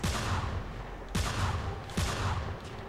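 Three loud, evenly spaced gunshots boom in Manhunt 2 during a shootout in a porn theater, each blast followed by a long, reverberant tail, about one second apart.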